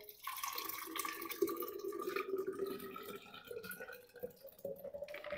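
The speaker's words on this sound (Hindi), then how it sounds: "अब इसको इस तरह से एक जग में डाल देंगे" Melon (kharbuja) milkshake poured from a container into a jug, giving a continuous close liquid splashing and trickling sound that lasts throughout with small drips.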